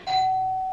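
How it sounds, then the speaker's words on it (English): A household doorbell rings once indoors, a single clear electronic tone that sets in sharply and then holds steadily as it slowly fades, loud and close with no talking over it. "Austin, the doorbell rang."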